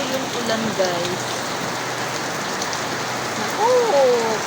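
Heavy rain pours steadily before dawn, a dense, even hiss on surfaces nearby, with faint bird calls drifting through.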